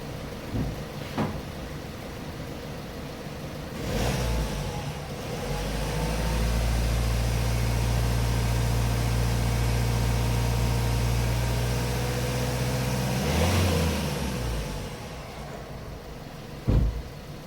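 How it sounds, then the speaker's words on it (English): A Hyundai i30 with the 1.6 CRDI diesel engine revs up from idle into a long, loud, steady drone, then drops back down. Clicks and a thump come before and after. "Now I'm going to rev the engine,"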